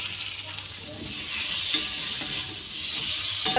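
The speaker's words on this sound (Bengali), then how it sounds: "এইবার ভেজে রাখা আলু দিয়ে দেব, দিয়ে ভালো করে কষিয়ে নেব।" Fried potatoes are turned in a spice masala in a hot pan, a continuous close sizzle with soft rhythmic stirring scrapes and a couple of sharper clacks of the spoon, no voices.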